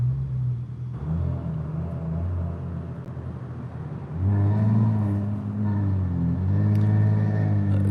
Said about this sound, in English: That's a 6-cylinder with an exhaust.